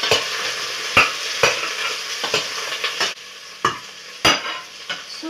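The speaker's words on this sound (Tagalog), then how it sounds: "Now we put our onions." Onions frying in a pan while being stirred, an ongoing sizzle broken by repeated sharp scrapes and clacks of a utensil against the pan at an uneven rhythm, close and fairly loud.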